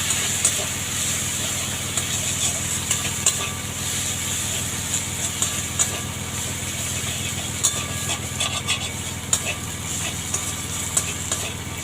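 Spice masala of turmeric and chili powder frying for chana masala, stirred in a pan: a steady, close sizzle and hiss with small scraping clicks throughout, no talk.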